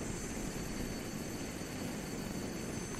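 Airplane engine droning in Roblox Mad City, a steady, faint, unbroken roar with no change in pitch or loudness from start to finish.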